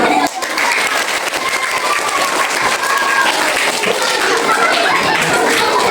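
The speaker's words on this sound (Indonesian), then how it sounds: "Mari kita beri tepuk tangan yang meriah atas persembahan yang sangat umum." Audience at a Maulid Nabi gathering applauding loudly and steadily, the dense clapping filling the whole stretch without pause.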